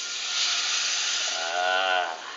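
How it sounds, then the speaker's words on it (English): Broth and water poured into a hot pan for garlic cilantro rice give a loud, close, steady hissing sizzle that swells and then tapers over a couple of seconds. "And now listen to this. You're going to hear the sizzle."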